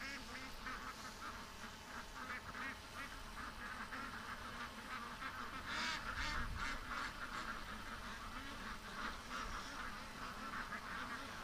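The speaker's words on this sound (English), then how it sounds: "That's a lot of ducks behind us." Many ducks quacking in a steady, busy chorus somewhat behind the listener, with a louder cluster of calls partway through and no talk over them.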